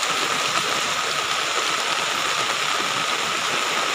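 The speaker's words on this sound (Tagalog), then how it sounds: "Kaya lang talagang maulan." Steady rain pouring down, a dense, even hiss of falling water with no pauses.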